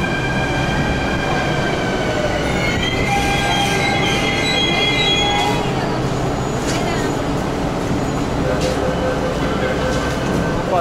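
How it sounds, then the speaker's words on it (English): A metro train runs on rails in India, with sustained high-pitched wheel squeals layered over a steady rumble of the carriages throughout, while people talk nearby. "Right, we're gonna take the metro."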